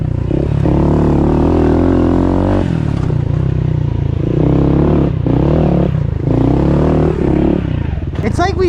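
A Yamaha YZ450F dirt bike rides a wooded pit bike track, its engine revving and dropping in repeated loud surges close by, with clattering and a brief voice.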